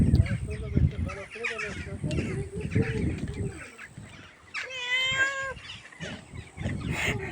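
Close, rustling movement and a voice speak softly, then a mother cat with newborn kittens gives one drawn-out meow in the middle while being fed, followed by more shuffling.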